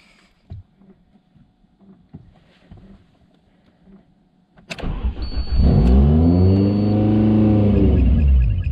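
An Alfa Romeo 147 2.0 TS firing up for the first time after an engine swap: quiet rustling and knocks, then the starter catches and the engine roars to a loud, steady revving idle that holds to the end.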